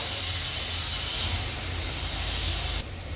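Cabbage for a Goan-style cabbage bhaji hisses and sizzles steadily as it hits a hot pan, a close, continuous broadband spit with no talk over it.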